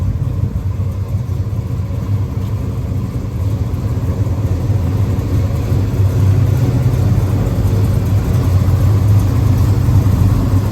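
An old driver car's engine runs steadily with a deep, thumping low rumble that grows slightly louder over time, close and continuous with no talk.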